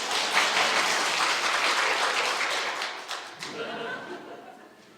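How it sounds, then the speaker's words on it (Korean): A church congregation bursts into a full round of clapping during a sermon, a thick wash of many hands with some chuckling mixed in, thinning and dying away over the last second. "누가 말 끝났다 그럼 박수"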